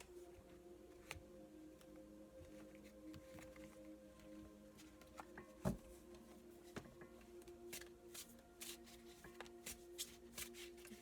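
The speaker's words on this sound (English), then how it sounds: "Let's do one more shuffle." Tarot cards are shuffled by hand in quiet, soft riffling bursts with light slaps and taps, close and faint with no talking.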